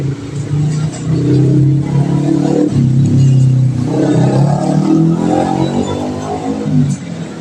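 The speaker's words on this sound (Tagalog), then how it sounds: "Traffic na naman yung lugar namin pag ganitong oras." Street traffic at a busy hour, with cars revving and accelerating close by in a steady, loud engine drone that swells and eases over several seconds, with faint voices underneath.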